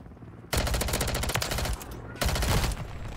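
Striker 9 shotgun blasts in Modern Warfare 3, coming as two dense bursts of loud, close, rapid gunfire separated by a brief lull, with game sounds running underneath.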